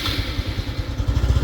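A motorcycle with a Taffware wireless key kit fitted starts and settles into a low, steady idle with a rhythmic thumping pulse, heard close up with no talking.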